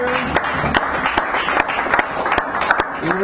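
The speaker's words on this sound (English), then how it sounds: "We're going to give her a nice round of applause." Audience at a San Francisco café poetry reading claps for a performer, a brisk burst of hand-claps with sharp individual claps standing out against a low crowd murmur.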